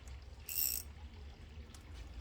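A ratchet clicks as it works loose an 18 mm brake caliper bolt on a heavily modified 2004 4x4 Astro van, one short sharp metallic burst up close, then quiet garage ambience.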